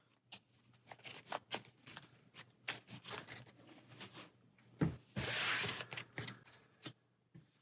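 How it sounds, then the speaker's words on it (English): Arkham Horror game cards being shuffled back into a deck, a series of close, quiet riffling and sliding bursts in uneven rhythm, with a longer hissing riffle midway. "So we'll shuffle these back into our stack."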